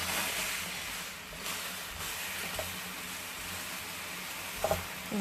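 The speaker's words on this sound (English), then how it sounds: "So we just stir fry it as we usually do," Baby corn stir-fried in a dry pan with no oil gives a steady broadband hiss and sizzle, with a few faint clinks and stirring scrapes near the end, heard close and alone.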